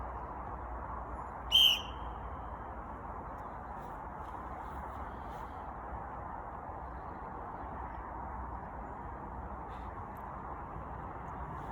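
One short, sharp blast of a coach's whistle rings out over steady outdoor wind noise during a running session, a single brief peep with nothing else following.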